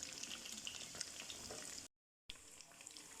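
Steady, dense sizzling of chicken and peas kebabs frying in a pan over a low flame, continuous and close, cut by a brief gap of silence before the frying resumes.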